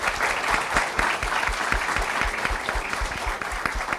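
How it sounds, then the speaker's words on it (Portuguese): Steady applause from an audience at a business association talk, dense close clapping filling the whole moment at an even level. "Uma salva de palmas, por gentileza."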